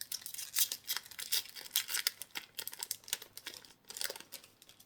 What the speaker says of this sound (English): I might have to just use my scissors to get these open